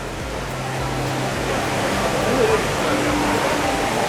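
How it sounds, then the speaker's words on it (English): A large man-made circular waterfall indoors at Changi Airport gives a steady rushing roar of falling water that fills the hall, with voices nearby. "Check out that waterfall in the middle."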